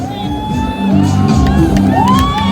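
An audience at the Miss Kugasaka 2020 beauty pageant cheers loudly, with overlapping shouts, whoops and high calls rising and falling close by.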